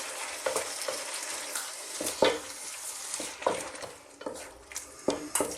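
Tomatoes, fennel and asparagus cook in a pan over medium heat, giving a steady soft sizzle broken by intermittent stirring scrapes and light utensil clatter.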